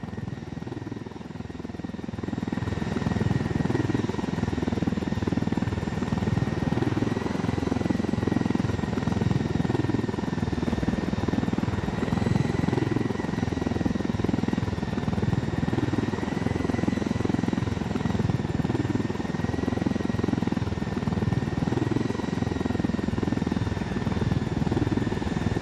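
A steady, loud helicopter rotor drone with a constant engine whine, from the video game Tom Clancy's Ghost Recon Wildlands, holding evenly throughout with no voices.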